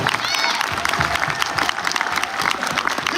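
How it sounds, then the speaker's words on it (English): A crowd applauds steadily with dense, continuous clapping and a few cheers mixed in, loud and sustained throughout. "Give them a round of applause."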